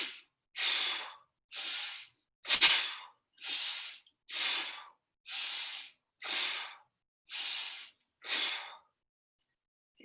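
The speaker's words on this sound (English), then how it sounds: "we'll get ready for those 5 deep breaths, in through the nose and out through the mouth" Deep breathing during a seated workout, nine even breaths in a slow steady rhythm, each an airy rush in through the nose or out through the mouth, close and clear with silence between and no talking.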